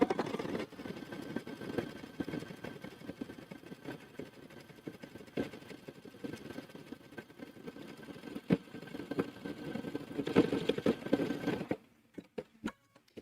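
A sewing machine stitching a zigzag or overcasting stitch along a zipper bag runs as a steady, continuous mechanical whir with fine rapid ticking, fairly close, stopping near the end to leave a few faint clicks.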